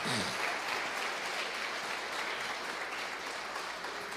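A church congregation claps steadily and densely throughout, a broad wash of applause filling the room at even loudness with no talk over it.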